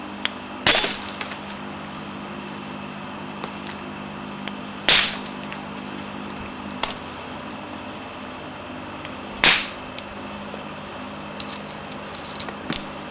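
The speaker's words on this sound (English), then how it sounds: "I'm doing my best to drive them flakes into that rock" Sharp, brittle cracks from a flint rock being struck to drive off flakes while knapping a Flint River Newnan point; three loud strikes spaced several seconds apart, with a few fainter taps between them.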